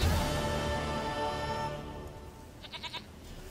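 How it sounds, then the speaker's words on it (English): A goat in The Witcher 3 bleats in a long, quavering cry that fades out, then gives a brief stuttering bleat, fairly faint against quiet background ambience. "Found your fucking goat."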